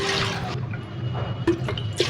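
Water pours steadily into a cooking pot of rice for yakhni pulao, a continuous splashing fill with a brief gurgle and small plops near the end.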